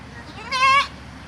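One goat bleats once on a village farm with young goats, a short, fairly close, quavering cry rising out of quiet outdoor background.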